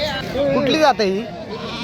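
At the busy Miraj livestock market, a Pandharpuri breed sheep gives a short, wavering bleat close by while someone speaks over the crowd.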